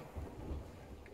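Thunder rumbles during a storm at sea in the pirate game Sea of Thieves: a brief, low, soft rumble with a couple of deeper swells, heard alone.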